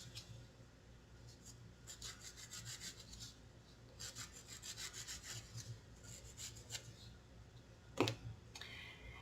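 A wire-woven pendant joint is sanded with short, soft rasping strokes in bursts, close and quiet, with a sharper click or tap near the end.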